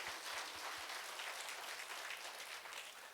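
A church congregation claps in praise during a healing service, dense steady applause from many hands heard at a moderate distance, holding throughout with no talk.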